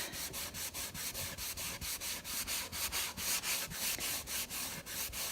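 A rag rubs dark wax over a wooden vanity top in steady, rhythmic back-and-forth strokes, a soft, even scrubbing heard alone and close.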